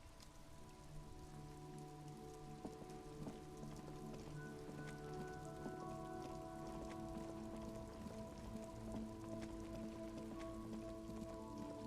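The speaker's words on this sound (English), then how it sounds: "This rain will not let up anytime soon." Steady, even rain pours down in the Disco Elysium game world, a continuous dense hiss of drops on surfaces with a faint tonal music bed beneath, holding level the whole time with no voices.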